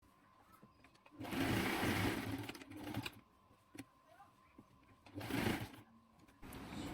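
A sewing machine stitches a collar placket in two loud runs, one long whirring burst and a shorter one later, separated by quieter pauses with small handling sounds.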